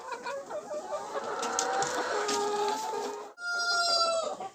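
Chickens cluck steadily throughout, with a rooster's harmonic calls rising over the flock, close and fairly loud; a brief pause before a fresh burst of calls.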